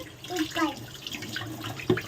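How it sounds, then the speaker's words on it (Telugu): Water is poured in short splashy bursts into a container nearby, fairly quiet with a low background murmur. "కొంచెం వాటర్ వేసుకుందామండి అందులోకి"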